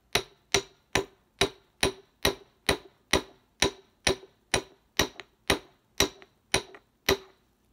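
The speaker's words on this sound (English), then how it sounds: "And so I'm gonna hammer all of these" Metal hammer blows flattening wire for a boho dream catcher pendant, about fifteen sharp, evenly spaced clanging strikes at a steady rhythm, close and clear with no talking.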